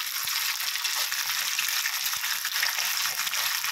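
Dried fish hits a hot frying pan and a dense, even sizzle fills the space, close and steady with no talk, a couple of faint knocks beneath it.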